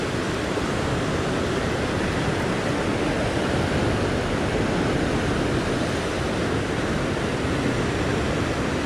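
Ocean waves surge and wash continuously against the base of a sea cliff during float fishing, a loud, dense, unbroken roar of surf with no voices.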